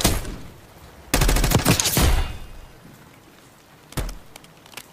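Gunfire in the video game Call of Duty Black Ops 6: one rapid burst of shots cracks out, then a single later shot and a few faint pops, with quieter game ambience between.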